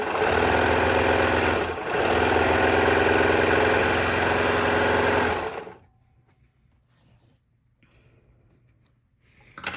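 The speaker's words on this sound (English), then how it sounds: "Same thing, but just stitching all the way across, not leaving any opening." A Baby Lock Accolade sewing machine stitches fabric straight across in one steady, fast whirring run of about five seconds with a brief dip, then stops into near silence.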